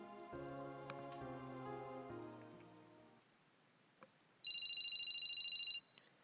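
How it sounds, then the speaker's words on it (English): In the video game Sweet Fuse, a soft musical tone plays first, then a short loud run of electronic phone trills rings out for over a second before stopping. "until Shido's phone rang"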